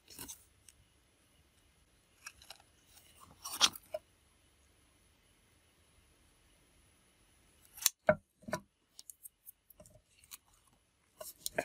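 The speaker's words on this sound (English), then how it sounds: "I'm gonna trim this off." Scissors trim a paper card front in short bursts of crisp snips separated by long quiet gaps, close and fairly soft.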